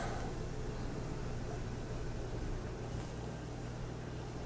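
Shiner Oktoberfest beer is poured from the bottle into a glass, giving a steady, low, close-up rushing and fizzing wash that runs evenly for several seconds without any talk.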